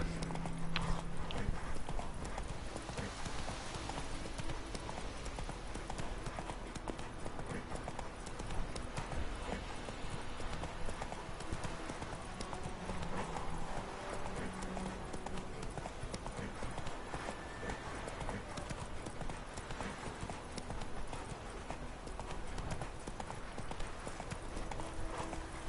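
Roach the horse trots in The Witcher 3, a steady clip-clop of hooves that continues throughout, moderately close, over a soft ambient bed.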